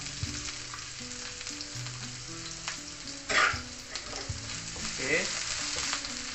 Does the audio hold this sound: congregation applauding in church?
no